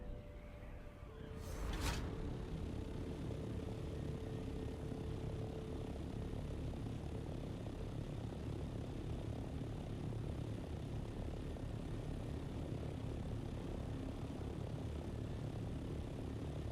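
A fixed-wing aircraft flies in the video game Dune Awakening, giving a steady, loud engine drone with a brief whoosh near the start, then an even hum throughout with no talking.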